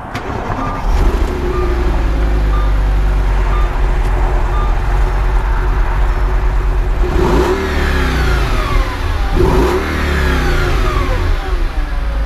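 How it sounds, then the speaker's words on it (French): A V10 engine in a four-door Lamborghini starts and settles into a steady, close, fairly loud idle, with two brief rising revs near the end over the constant low hum. "je vais vous démarrer le véhicule, montrer comment il démarre, puis aussi un petit peu de son"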